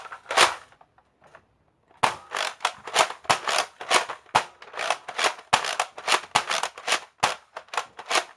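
A Nerf Rival toy blaster slam-fires in a fast string of sharp, loud pops with a few scattered shots first, then a brief pause, then rapid near-continuous firing up close.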